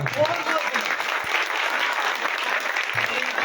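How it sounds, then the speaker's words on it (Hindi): Enthusiastic applause from a crowd gathered at a village welcome event in Haryana, dense, continuous clapping at a steady level with a few brief voices mixed in. "जोरदार तालियों से स्वागत करें"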